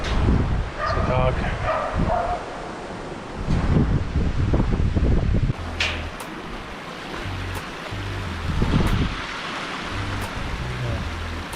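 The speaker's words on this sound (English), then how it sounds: "It's a dog." A dog barks a few times in the distance on a mountain catwalk trail, heard under loud wind noise and flowing water, with people talking nearby.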